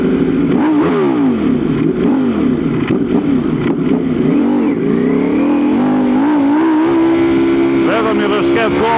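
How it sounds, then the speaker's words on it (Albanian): A 2019 Ducati Panigale V4 motorcycle engine revs loud and close, its throttle swelling and falling repeatedly in a rough, throbbing roar before climbing into a higher, sustained pitch near the end. "Zhurma karakteristike e Ducatit si traktor."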